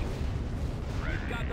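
Laser and turbolaser weapons fire from starships in the space strategy game Star Wars: Empire at War, a dense continuous barrage of booms and blasts with a faint zapping sweep, overlaid by game voice talk.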